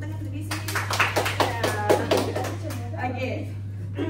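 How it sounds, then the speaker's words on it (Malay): Students in a classroom clap for themselves in a short, scattered burst of applause over voices and a steady electrical hum, then the clapping fades out. "Pandailah semua, tepuk tangan untuk diri sini."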